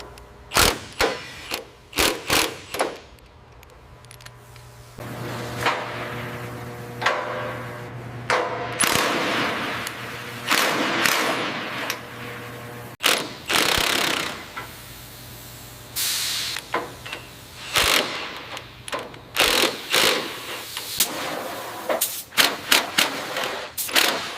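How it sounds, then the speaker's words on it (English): A power wrench fires repeated short, hissing bursts while tightening a bolt on an old airport tug in a plane scrapyard. The bursts are loud, uneven and close together, broken by brief pauses and clanks. "Got that bolt tight yet? Almost. Just one more burst."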